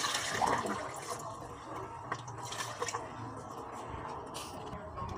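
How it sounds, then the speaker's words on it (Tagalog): Tap water is poured over seaweed to soak it for seaweed jelly, a steady splashing, gurgling pour running for several seconds with a few small drips and clunks close by. "lagyan na natin ito ng tubig guys"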